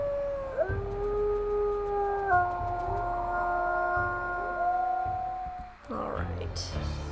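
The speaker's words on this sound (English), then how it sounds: "We'll just stand right here, right on the edge, and howl at them." Wolves howl in the video game WolfQuest, several long rising and sliding tones overlapping and held for seconds, loud and close, with a low steady background underneath.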